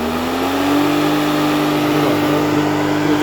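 An electric universal grain crusher motor starts and runs, a steady loud whine that rises slightly in pitch over the first second, then holds a constant drone with a low hum beneath.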